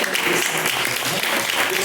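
A crowd claps and cheers in a dense, steady burst of applause, loud and continuous throughout.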